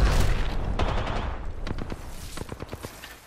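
Gunfire in the battle royale game Apex Legends, a loud opening burst followed by rapid bursts and single cracks of automatic fire at varying distances.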